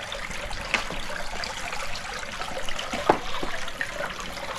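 Water trickling and dripping off a dirty secondary filter as it is lifted out of a fish pond, a faint continuous patter with a few louder drips.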